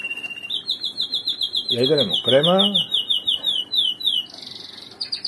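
Cage birds chirp and whistle in a room, a thin run of high repeated tweets and a shrill call near the end, while a person talks up close over them.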